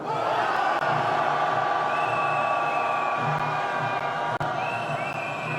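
A large crowd at a candlelight protest march in central Seoul, calling for a presidential impeachment, shouts and cheers together in a loud, sustained roar, near and continuous throughout.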